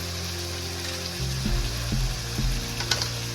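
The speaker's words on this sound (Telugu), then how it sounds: "ఇప్పుడు కట్ చేసి పెట్టుకున్న మిర్చి వేసుకోవాలి." Chopped green chillies dropped into marinated chicken frying in a pan, a low steady sizzle that jumps louder as they land, followed by a few stirring knocks and crackles close by.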